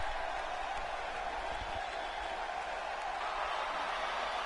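Arena crowd in the WWE 2K16 video game, a show in Dallas, Texas, as a wrestler makes his entrance: a steady, dense roar of cheering and murmuring spectators that holds at an even level throughout without pause.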